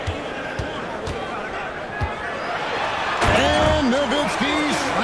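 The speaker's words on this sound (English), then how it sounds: "And Nowitzki slams it in." Basketball dunk in the NBA 2K25 video game, a slam from Nowitzki: a sharp impact and ball bounces under continuous crowd noise, with a commentator talking over it and arena sounds swelling near the end.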